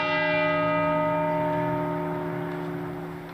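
A gong struck at a political rally rings out with a bright, sustained metallic tone that slowly decays over a few seconds, heard alone without talk.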